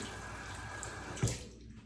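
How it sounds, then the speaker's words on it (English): Tap water runs steadily while a synthetic shaving brush is wetted under it, a soft continuous splash with a brief louder splatter near the end. "go ahead and wet my synthetic brush here"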